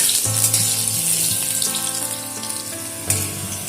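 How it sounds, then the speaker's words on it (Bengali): Potatoes fry in hot oil with a steady crackling sizzle, close and moderately loud, with a brief sharper burst near the end. "আলুগুলো খুব ভালো করে ভেজে নিলাম"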